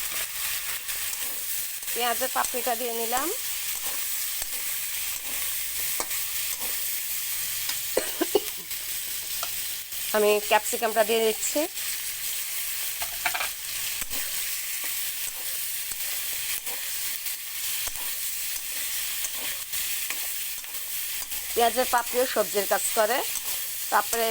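Onion petals are stir-fried with fried meat in a pan for a Chinese-style vegetable dish, the heat turned high. A continuous sizzle runs throughout, broken by brisk stirring scrapes and a few squeaky utensil strokes.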